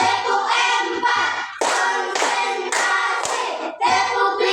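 Hand clapping in a classroom learning exercise, sharp close claps in short rhythmic bursts with brief pauses between groups, loud and dry, with no talking over it.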